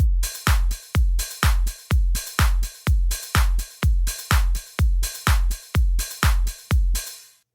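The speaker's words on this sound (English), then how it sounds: "closed hat, and open hat sounds like this." A deep house drum pattern plays alone: booming kicks on a steady beat with crisp closed hi-hats and longer open hi-hat hits between them, loud and clean, ending abruptly.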